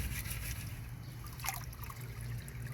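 Water sloshing and trickling in a gold pan full of paydirt being shaken side to side, a close, continuous wet swishing with a brief splashy surge midway.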